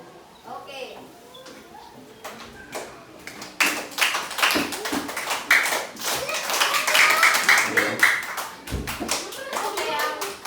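Schoolchildren clap their hands in a grade 3 classroom: scattered claps early on, then a dense, lively burst of applause from about a third of the way through, with children's voices chattering underneath.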